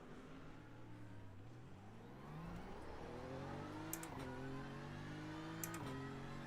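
An AI-controlled GT race car in a sim racing game on the Nordschleife revs its engine, with rising and falling harmonic engine tones swelling louder midway and brief high transient clicks near the end, no talk over it.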